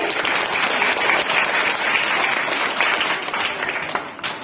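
An audience at a school World Water Day house competition applauds, a dense burst of many hands clapping that holds steady and then starts to fade near the end.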